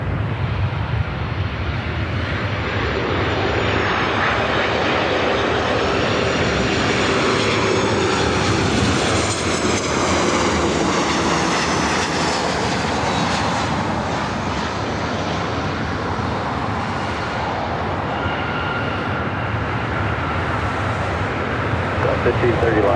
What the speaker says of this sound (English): the 737-700 should be heading over here